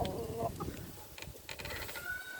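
A hen clucks a few short, agitated notes close by after a hawk attack, fairly quiet over low background rumble.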